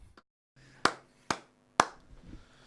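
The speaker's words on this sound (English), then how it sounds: "Why do you clap?" Three sharp, isolated hand claps spaced about half a second apart mark a podcast recording, each a crisp close transient with a short room tail, with faint low hum between them and no talking.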